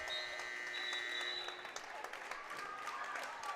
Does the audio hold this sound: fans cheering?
yes